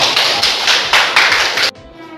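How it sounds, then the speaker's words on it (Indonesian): A classroom of children claps hands together in loud, rhythmic bursts of unison claps for about a second and a half, then stops abruptly into quiet room tone. "Tepuk tangan untuk kita semua dulu."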